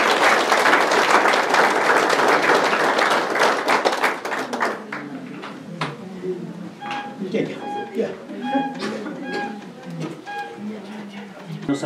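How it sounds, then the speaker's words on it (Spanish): Loud, full applause for the stewards at a patronal festival for the Virgin of Perpetual Help in Atipayan, thinning after about four seconds into scattered claps as people begin talking. "Un fuerte aplauso por los mayordomos"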